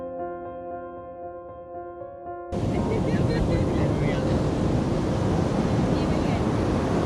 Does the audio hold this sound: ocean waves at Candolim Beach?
yes